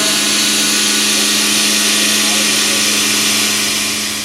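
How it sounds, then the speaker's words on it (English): An end mill held in a shrink fit holder cuts metal on a machine, giving a loud, steady, high-pitched milling whine with a broadband hiss that holds at an even level throughout. "I would argue that this is cutting just as well, if not better, than a super short end mill chucked in all the way up in the shank"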